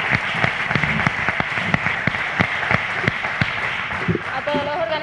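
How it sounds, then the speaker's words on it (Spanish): An audience claps for an expert panel at the close of a mare-breeding event day, steady broad applause with distinct individual claps standing out, while a voice speaks over it near the end. "no sin pedir un aplauso a la mesa de expertos"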